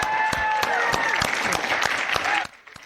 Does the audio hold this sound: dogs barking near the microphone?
no